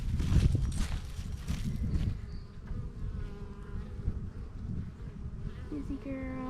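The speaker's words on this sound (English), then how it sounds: "Busy, busy, busy, busy bees." Honey bees swarm around backyard hives in March, a steady, close droning buzz with individual insects passing near; rustling footsteps or handling noises thump early on, and no one speaks over it.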